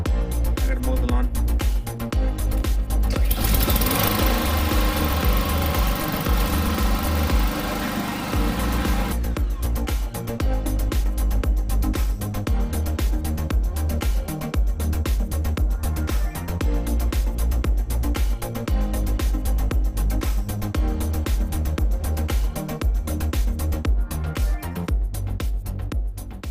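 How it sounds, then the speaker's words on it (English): A lawn mower runs steadily at close range while a yard is mowed, a continuous mid-pitched engine drone that holds throughout with a brief louder, rougher stretch early on, and some speech faintly under it. "I gotta mow the lawn."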